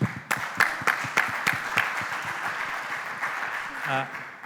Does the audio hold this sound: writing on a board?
no